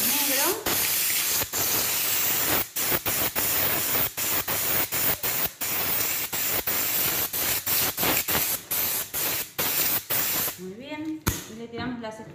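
Black spray paint hisses from an aerosol can in long loud bursts broken by short pauses, close and continuous over several seconds, with a voice talking briefly near the end.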